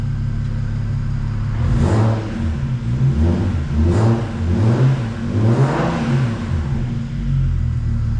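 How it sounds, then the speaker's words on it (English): A BMW 335i with a single-turbo N54 engine revs repeatedly while stationary, each loud, close blip rising and falling in pitch over a continuous idle rumble, with no talking. "But we gotta rev it a little bit"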